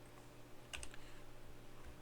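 A brief burst of a few quick keystrokes on a computer keyboard, quiet and close, clustered together against a faint steady hum, with no voices.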